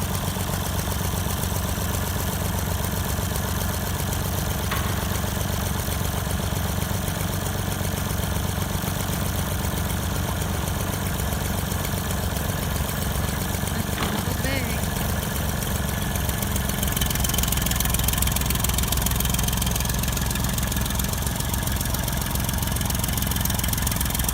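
A tractor engine idles on a cattle farm with a constant low rumble, loud and unchanging throughout, with a slight rise in noise near the end.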